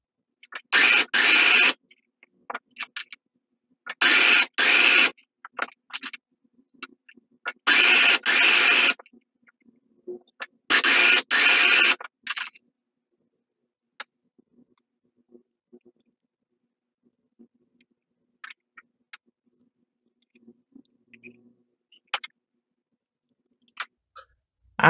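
A sewing machine runs stitching lines across marked fabric for a safari hooded towel, in four close, loud whirring bursts of about a second each, then quiet with faint clicks and handling.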